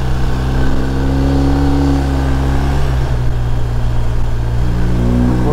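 A 2021 BMW R1250RT police-spec motorcycle engine drones steadily while riding, a loud continuous mid-pitched hum with slight shifts in tone and no talk over it.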